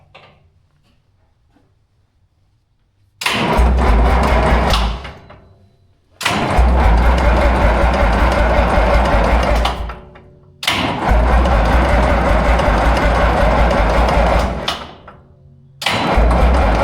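A Minneapolis Moline A4T 1600 tractor engine cranks in several long bursts of about three to four seconds each, loud and close with heavy low rumble, separated by short quiet pauses.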